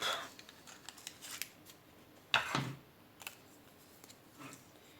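A single crisp snip of a paper trimmer or scissors cutting granite grey cardstock for a Stampin' Up card, close and quiet, with faint handling rustles and small taps around it.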